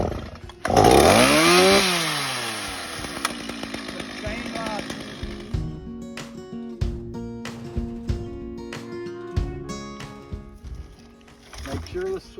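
Chainsaw with chain lock engaged, started on choke outdoors during a prescribed burn: a loud pull-start catch sweeps up into a revving roar, then drops to a rough, uneven idle with sputters, close by with a voice briefly over it.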